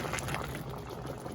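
Hot water poured onto sautéed pork in a pot for stew, a steady broadband rush and sizzle of liquid hitting hot meat, close and continuous with no talking.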